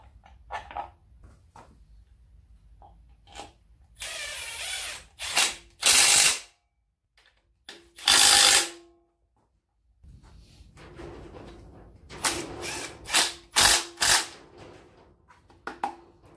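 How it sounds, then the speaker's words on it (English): A ratchet clicks and spins out 10mm bolts on the Puma Tdci engine of a Land Rover Defender, in several close, sharp bursts of rapid ratcheting separated by quiet pauses. "Let's take the bolt out of there, 10mm."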